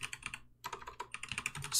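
Rapid keystrokes on a computer keyboard while coding a Python tic-tac-toe game, a steady close clatter with a brief pause partway through.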